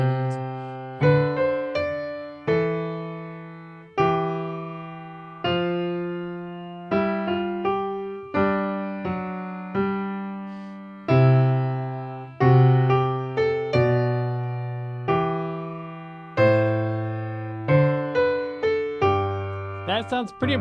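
The Pomp and Circumstance melody is played alone without a backing track, apparently on a keyboard. Sustained notes ring clearly in a slow, stately rhythm with no other instruments.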